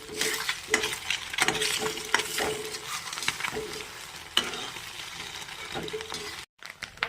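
Boiled eggs frying in a pan, with continuous sizzling and repeated scraping strokes as they are stirred, and speech in between.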